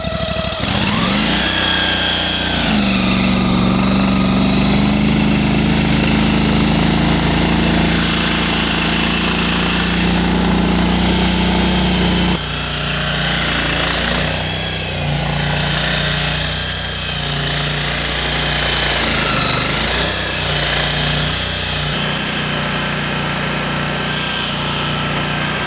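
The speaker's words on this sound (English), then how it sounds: "Honda V-twin tracked machine, and he's gonna go move the shed with this." A Honda GX800 V-twin engine on a tracked machine runs loud and close, revving up early, then holding a steady throbbing drone with shifting load and pitch dips over about twenty-five seconds.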